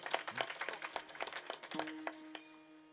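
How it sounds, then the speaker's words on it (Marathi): Audience at a Marathi kirtan giving a short burst of hand clapping, uneven claps from a modest crowd that quickly thins out, with a sustained harmonium-like tone entering underneath as the clapping fades. "टाळी वाजवा ना एकदा यांच्यासाठी, सगळ्यांसाठी"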